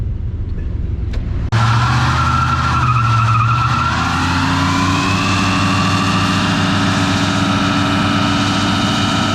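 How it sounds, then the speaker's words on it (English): A 1973 Chevrolet C10 pickup with a rust-filled engine and carburetor issues revs hard and spins its tires, a sudden loud engine roar and sustained tire squeal erupting after a quiet start and continuing steadily to the end. "Y'all thought it could spin the tires earlier."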